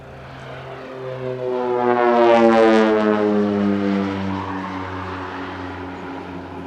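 An OV-10 Bronco twin-turboprop flying a night pyrotechnic airshow display at Leszno makes a throbbing propeller drone that swells as it approaches, peaks loudly overhead, then slowly fades away.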